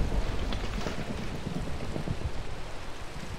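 Steady rain pouring in a video game, a dense continuous hiss of falling drops with faint low rumbling underneath, even and unbroken throughout.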